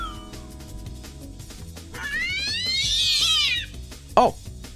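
A cat meows in the Human or Not game: one long, rising-and-falling meow in the middle, then a short sharp yowl near the end, heard over steady background music.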